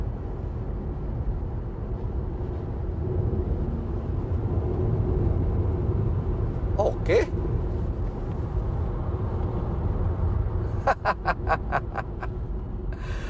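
A Mitsubishi Xpander MPV cruising at about 90 to 100 km/h, giving a steady low road and engine drone throughout, with a brief knock midway and a short run of rapid ticking clicks near the end.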